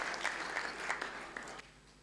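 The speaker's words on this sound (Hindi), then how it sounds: "ज़ोरदार तालियों से इस्तकबाल करें मोहतरम अब्दुर्रहमान फ़रीद नदवी साहब को" Audience applause at a mushaira in Qatar welcoming a poet, a moderate spread of clapping with several small swells over about two seconds, thinning out toward the end.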